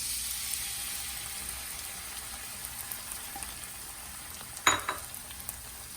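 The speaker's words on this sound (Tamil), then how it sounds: "நம்ம உடச்சி வச்சிருக்க 3 எக் வந்து இதில் ஊற்றுறேன்" Beaten eggs hit a hot pan of vegetables with a steady soft sizzle, then a brief louder burst of crackling near the end as the egg is poured in, heard alone without talk.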